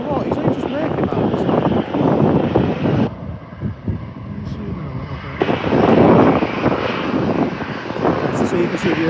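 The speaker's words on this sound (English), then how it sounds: "So you can see the aircraft." Aircraft engine roar at Liverpool John Lennon Airport, loud and sustained with wind buffeting the microphone, briefly dipping before swelling again, while people talk over it.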